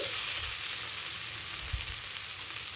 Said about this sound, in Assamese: এতিয়া এয়া ভাজা বনোৱা কেৰাহীটোতে মই এতিয়া মাছ ভাজিম